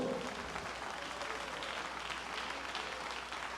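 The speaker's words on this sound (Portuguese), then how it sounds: "Vamos aplaudir ao Senhor" A church congregation claps together in praise, a soft, even wash of many hands that stays steady throughout and sounds somewhat distant.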